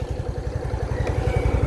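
A Suzuki Skydrive 115 Fi motorcycle engine runs at a steady idle close by, putting out a rapid, even low putter with light mechanical clatter and no voices.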